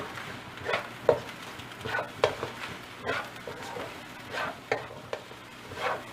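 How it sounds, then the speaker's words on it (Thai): Egg fried rice stir-fried in a wok over high heat: irregular scraping strokes of a spatula against the metal, each a short rasp, over a low continuous sizzle. "เราจะผัดไปเรื่อย ๆ จนกระทั่งข้าวเป็นเม็ดร่วนไม่แฉะค่ะ"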